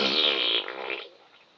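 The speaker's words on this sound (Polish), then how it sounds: "pierdnąłem na was" A cartoonish fart effect in the Roblox video game, a single short buzzy blast that starts strong, then sputters and fades within about a second and a half.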